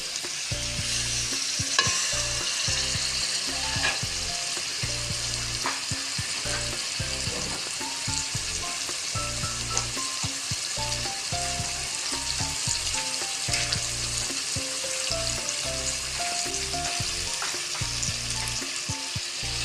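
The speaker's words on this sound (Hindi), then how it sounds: "इसकी भी हम 1 मिनट के लिए इसको फ्राई करेंगे।" Tomatoes frying in oil for a chicken and turnip curry, a steady close sizzle with repeated stirring scrapes through the whole stretch, no talking.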